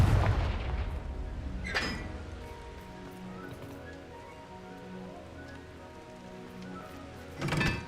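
A Confringo blasting spell in Hogwarts Legacy fires as a sharp explosive burst at the start, followed by a second blast and a final one near the end, over a quiet, crackling game ambience.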